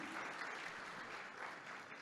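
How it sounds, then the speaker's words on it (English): An audience at the opening ceremony of the Supercomputing Asia conference breaks into a round of applause, a dense, even wash of clapping from many hands, quiet and distant, with no clear voices. "Let's welcome each other right here with a round of applause, shall we"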